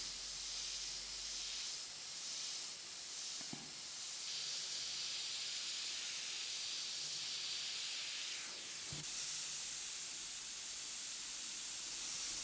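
An airbrush sprays Createx black paint in a continuous fine hiss, close and steady for several seconds, broken by a couple of brief clicks, with no talking.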